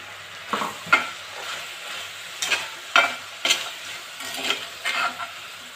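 Ground spice powder is stirred into chicken frying in a pan. A utensil scrapes in a series of short, irregular strokes over a soft, continuous sizzle, close by.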